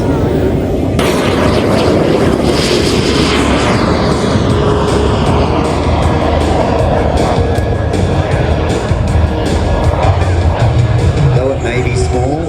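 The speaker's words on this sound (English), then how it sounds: "it sounds like a jet. That's what it is. It is a jet." A loud, continuous jet engine roar with a rising whine from a jet aircraft taxiing at an airshow in Mudgee, steady and close throughout, with broadband rumble underneath.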